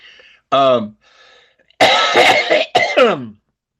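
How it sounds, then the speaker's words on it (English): Several rough, raspy coughs in quick bursts, close up, with a strained voiced sound before them and a short pause in between. "why does it make you cough like that?"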